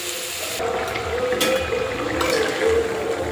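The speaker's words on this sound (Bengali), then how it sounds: "এইভাবে মাছ আর মশলাটা যে কষিয়ে নিয়েছি, এবারে জল দিয়ে দিই।" Water is poured into a pan of spiced rohu fish curry, the fried fish and masala already sautéed; a steady, close splashing pour runs on through the clip with no talk.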